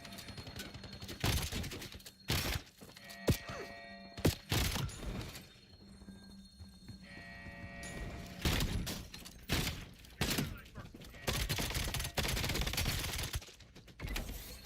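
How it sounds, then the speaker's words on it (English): Gunfire in Call of Duty Black Ops 7 comes in repeated sharp bursts and cracks separated by brief lulls, mixed with mechanical clattering, fairly loud and close. "Taking fire."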